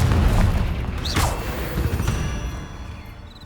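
A Confringo fire spell in Hogwarts Legacy bursts with a loud, boomy blast and a whooshing streak, then rumbles away, trailing into a dimming tail.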